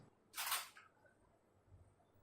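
A DSLR shutter fires once indoors with a bounce flash at 1/60 s, ISO 100 and f/5.6. It is a crisp, close mechanical click-clack, followed by a faint whir in otherwise quiet surroundings.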